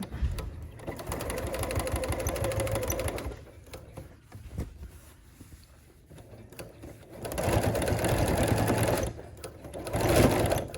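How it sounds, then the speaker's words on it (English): Sewing machine stitching a fabric garment bag, its rapid motor whir running in two steady bursts separated by a quieter pause with small handling sounds. "you can just carefully sew."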